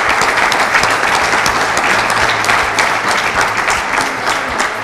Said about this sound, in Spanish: Por eso quiero brindarle un aplauso parte de todos acá.